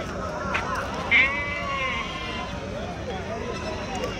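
Kadiri goats bleat amid a busy weekly livestock market, one sharper cry standing out briefly over a steady crowd murmur and background talk.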